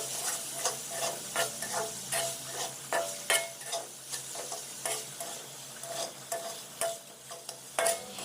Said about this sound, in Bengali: আমি কিন্তু এখনো পর্যন্ত ক্রমাগত নেড়ে যাচ্ছি